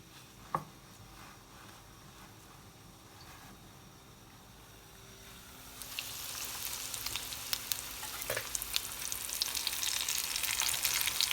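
Bone-in chicken pieces deep-frying in hot oil for crispy fried chicken. A quiet stretch with a couple of clinks gives way to a loud, dense crackling sizzle that swells and continues close by, without talk.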